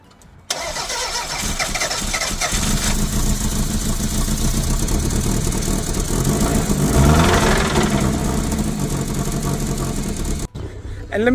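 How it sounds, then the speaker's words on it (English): A car engine cranks and catches after a jump-start from a jumper pack used straight out of the box, then runs loudly and steadily for about ten seconds with a brief rev midway before cutting off. "we're going to go and get this car started"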